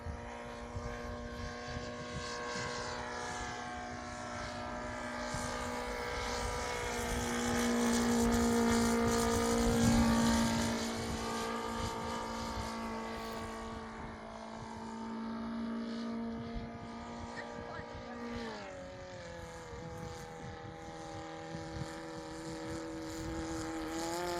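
Engine drone of a large RC propeller airplane sweeping close by in a low flyby, its pitch rising and then dropping as it passes, loud and steady throughout with no talking.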